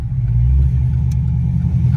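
A car with newly replaced spark plug wires pulls away from a dead stop, its engine a deep, steady rumble heard from inside the cabin, swelling slightly as it accelerates, with no talking.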